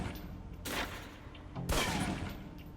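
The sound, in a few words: pistol shots at a target in the video game Alpha Protocol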